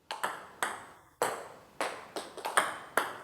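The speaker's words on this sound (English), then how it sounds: "Topspin is an impact sound, backspin is a brushing sound." Table tennis ball struck on backspin serves: about eight sharp, close-up ticks and clicks in an irregular run over three seconds, with no talk.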